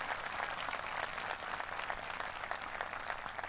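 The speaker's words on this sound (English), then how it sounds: "And if we could give a big round of applause for all of our retiring teachers this year." A high school graduation audience in South Anchorage claps for retiring teachers, a dense, sustained round of applause from many hands that stays fairly loud and even throughout, with no talking over it.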